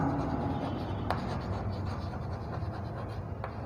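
Writing on a board during a chemistry class lesson, soft and continuous scratchy strokes with a couple of sharper taps, fairly quiet and heard alone.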